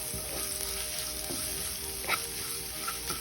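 Raw mango with turmeric and salt sizzling and frying steadily in a hot pan, a continuous close hiss with a few faint stirring clicks and scrapes, no voices.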